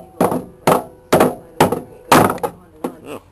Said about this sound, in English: now I'm going to hammer on it